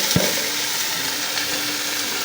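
Garlic and onion sautéing in hot oil in a home kitchen pan, a sharp hiss when the aromatics hit the oil settling into a steady, close sizzle with faint stirring throughout.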